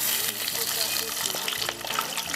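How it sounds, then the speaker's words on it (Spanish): Pot of water boiling with noodles cooking for picante de pollo, a steady bubbling hiss close up with faint voices in the background. "Ya hemos terminado la ollita, ya está hirviendo aquí."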